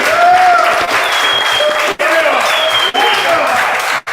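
Crowd clapping at a Dallas boogie-movement gathering honoring a local legend, a dense, loud, steady wash of applause with cheering and whistles over it, briefly dipping a few times.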